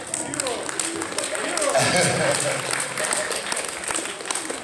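An audience at an anime convention panel bursts into clapping, a dense wash of applause that swells and holds while a voice talks over it.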